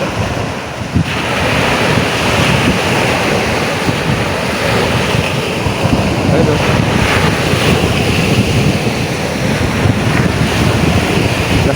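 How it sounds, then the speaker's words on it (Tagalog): Strong northeast monsoon wind buffets the microphone over steady crashing surf, a continuous loud roar by the shore. "Ang lakas ng hangin."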